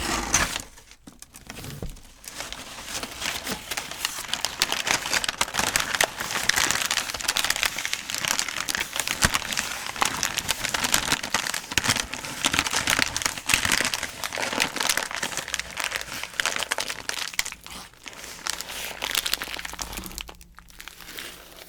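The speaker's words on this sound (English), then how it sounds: "Pull that paper out." Paper crinkles and rustles steadily as it is pulled out of a subscription box holding a pasta maker, close and continuous with crisp crackles throughout, no talking.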